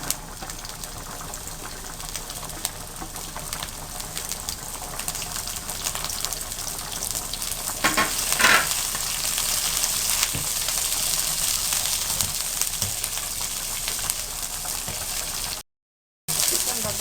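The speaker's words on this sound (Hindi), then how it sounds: "2 टेबलस्पून ऑयल डाल दें और कैबेज को फ्राई कर दें" Cabbage frying in a couple of tablespoons of oil, a steady broadband sizzle running throughout with a few louder crackling bursts midway and a brief dropout near the end.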